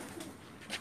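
Paired pigeons at a rooftop loft in Jeddah give soft, faint coos, a couple of brief low calls in under a second.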